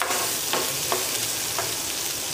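Boiled chickpeas with salt and tomatoes are stirred in a sizzling pan, with a steady hiss of frying and a few soft stirring scrapes close by.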